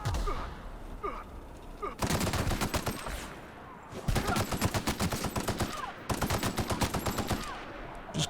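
Machine gun fire in The Outer Worlds, rapid sustained bursts of rattling automatic shots in three long volleys separated by short pauses, loud and close.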